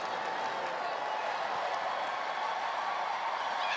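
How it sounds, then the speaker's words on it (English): At an agility championship, a crowd applauds and cheers in a continuous broad wash of clapping and voices. It holds at a steady, moderate level throughout, with no distinct individual speech. "The crowd is cheering her on."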